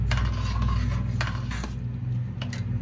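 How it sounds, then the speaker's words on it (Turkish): Spoon scraping and clinking against a pot while stirring hot spicy tomato sauce with olive oil just added, several close metallic scrapes and taps in an irregular rhythm, no talk. "Şöyle karıştırıyorum."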